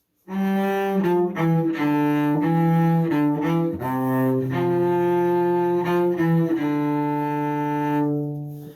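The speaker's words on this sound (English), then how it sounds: "Measure 17 through measure 20 sounds like this." Solo cello plays a practice passage from Suzuki Minuet No. 1, a steady run of clear bowed notes that step up and back down at an easy, moderately soft level, close and without any talking.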